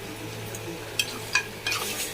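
Biryani meat curry with softened onion and tomato stirred in a pot, a soft steady sizzle broken by three sharp metal spoon scrapes against the vessel, close and moderately loud, with no speech.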